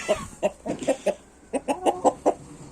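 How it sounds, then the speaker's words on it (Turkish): Chickens and roosters let out of their coop into the open, clucking in a quick run of short, close calls, a pause, then another burst of clucks. "Aha bak diğer horoz da geliyor şimdi"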